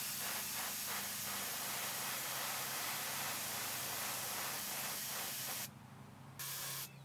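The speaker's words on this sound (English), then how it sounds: "so what I do is I use an airbrush." An airbrush sprays paint onto slip corks in a steady, loud hiss that holds without a break, then briefly drops and returns near the end. The airbrush has not been cleaned out well.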